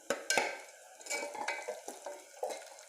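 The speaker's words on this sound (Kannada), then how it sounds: "ಈಗ ಕಾಯಿ ಮೆಣಸು ಹಾಕ್ತಾ ಇದ್ದೇನೆ." Green chilies stirred into a pan of browned onions for a veg aloo biryani, with soft scraping and clinking of a spoon against the pan over a faint sizzle, in several short quiet strokes.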